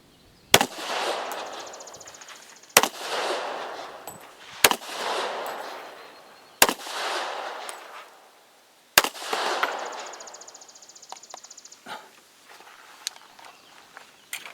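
Five loud gunshots from a .45 ACP pistol firing handloads made with Alliant E-3 powder, each a sharp crack followed by a long echoing decay, spaced a couple of seconds apart outdoors.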